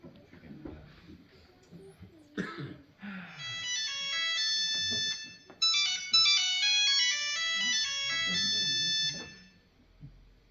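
During a live theatre play, a stage telephone rings with a bright electronic ringtone melody that repeats for several seconds, preceded by soft voices and stage noise in the room.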